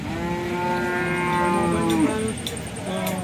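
A cow moos loudly and close by at a cow market in Sangola, one long drawn-out call with a rising then falling pitch, over a busy background of crowd murmur and other livestock.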